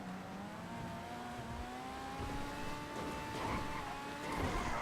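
A car in a video game speeds along with a steady, rising engine whine and faint tire noise, moderately quiet and continuous for several seconds with no one talking.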